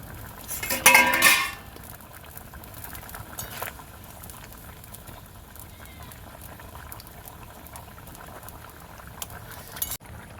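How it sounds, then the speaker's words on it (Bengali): Village-style rohu fish curry with potatoes boiling in a pot: a loud clatter of the lid at the start, then a steady bubbling simmer with occasional utensil clinks and a little background speech. "দেখুন বন্ধুরা, ঝোলটা খুব ভালো মতন ফুটে গেছে"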